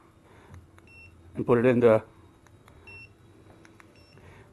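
A Jepwco G4 Pro anti-spy detector emits faint, short, high beeps repeating at intervals while a person talks nearby.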